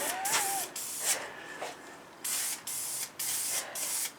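Plastic dip from an aerosol tin sprayed onto a Triumph Bonneville sump guard in a garage: a few short hissing bursts at first, then several longer, evenly spaced sprays, close and fairly loud.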